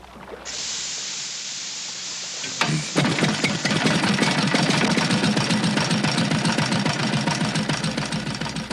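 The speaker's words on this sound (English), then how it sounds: "The air does not provide sufficient oxygen for the motor to catch." Small outboard-type motor on a lake, starting up and running steadily with pure oxygen fed into its carburetor; a hiss is followed by a sharp start, then a loud, continuous rapid chugging.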